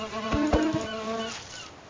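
Flies buzz in Minecraft played with horror mods, a close, droning insect whine with a few sharper pulses, lasting under two seconds.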